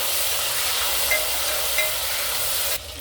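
Tomatoes sizzle steadily and loudly as they hit hot tempering in a pan while masoor bhat is being cooked. The hissing frying stays even and close throughout, then drops abruptly near the end.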